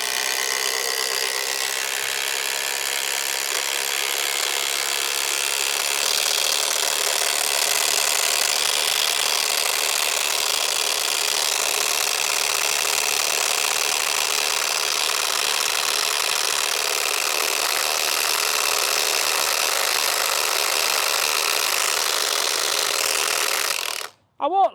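Makita power tool driving a ground screw pile into the earth for a 3x3 m garden room base, a steady loud grinding drone running continuously for about 24 seconds before cutting off abruptly.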